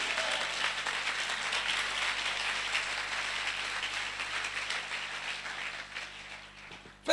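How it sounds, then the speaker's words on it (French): A church congregation applauding and cheering for Jesus during a French-language service, a dense, steady wash of clapping and voices from a large room that slowly fades toward the end. "Est-ce que quelqu'un peut acclamer Jésus?"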